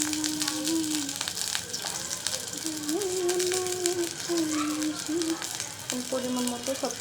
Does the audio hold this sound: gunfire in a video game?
no